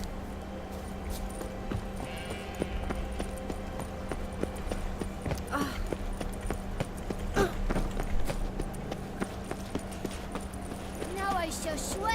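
Hooves of Roach, a horse in The Witcher 3, clop steadily throughout at a walking pace beneath a constant game ambience, with faint voices and other background sounds.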